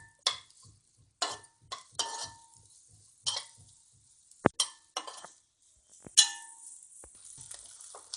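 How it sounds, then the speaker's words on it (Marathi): A utensil clinks and scrapes against the pan as onion is stirred while roasting in a spoonful of oil, with sparse taps and faint sizzling in a quiet kitchen. "सुरुवातीला आपण कांदा भाजून घेऊया।"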